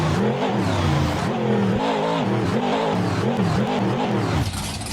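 A monster truck engine in the Rigs of Rods simulator roars up and down as the truck spins around during a Brisbane Monster Jam run. The revving is loud and close, rising and falling in quick surges before cutting off near the end.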